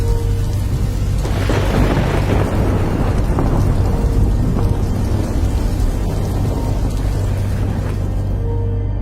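Steady heavy rain pours throughout, with a low rumble of thunder rolling in the background; no voices.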